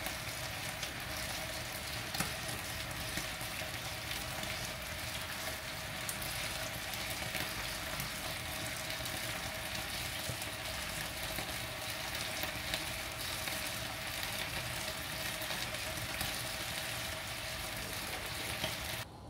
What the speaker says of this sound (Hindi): हमारा उबाला आ चुका है, अब हम इसमें मछली ऐड करेंगे।